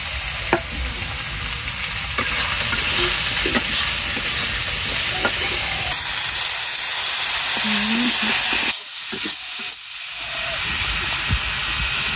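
Fish and radish pieces sautéed together in a pan, a loud continuous sizzle and steamy hiss with stirring scrapes, and a brief clattering interruption near the end.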